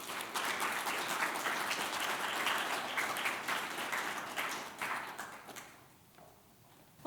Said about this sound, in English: Please give a round of applause for Jessica White.